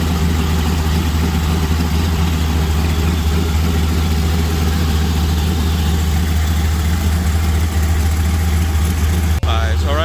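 A truck engine idles steadily after a hard start, a deep, even rumble running close and loud throughout with a brief click near the end.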